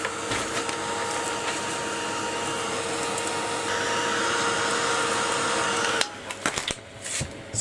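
A hair dryer blowing steadily on a mixed media canvas, a loud continuous whooshing whine running close and unbroken for several seconds before cutting off into a few clattering handling noises.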